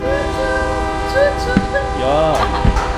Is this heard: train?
yes